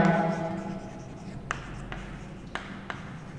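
Writing strokes on a classroom board during a maths lesson: a fading voice at the start, then four short, crisp scratches spaced irregularly against a quiet room.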